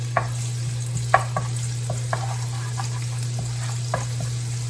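A quiet sizzle of meat and garlic sautéing in a pan for Filipino dinuguan under a steady low hum, broken by a few clicks and scrapes of stirring.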